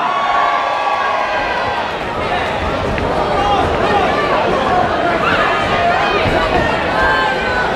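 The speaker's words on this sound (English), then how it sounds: "Let's have a big cheer for the blue corner." Spectators at a white collar boxing event in Leeds cheer for the blue corner, a loud, continuous wash of shouts, whoops and crowd chatter filling the venue, with voices mixed throughout.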